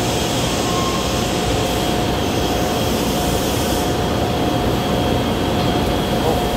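An old, large vacuum suction machine used for lifting glass runs at the factory, giving a loud, steady, unbroken roar with a thin constant whine on top and no talk.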